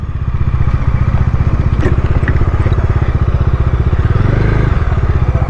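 A Royal Enfield motorcycle engine runs steadily and loud at close range while being parked at a Scram 440 launch event in Kolkata, a continuous thumping beat with light clatter and some background voices.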